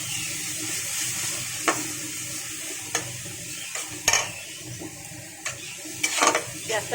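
Stone-ground tomato and onion paste fries in hot oil with spices for a tilapia and eggplant curry, a low steady sizzle under irregular scrapes and knocks of stirring, close and fairly quiet.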